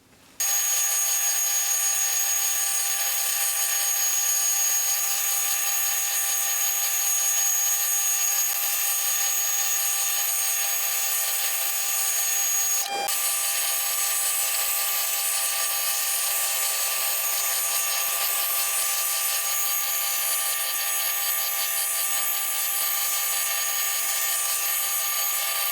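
A metal lathe turning stainless steel, brass or silver steel with the compound slide set at angles, giving a loud, steady high-pitched machining whine and hiss that runs on without pause, no talk.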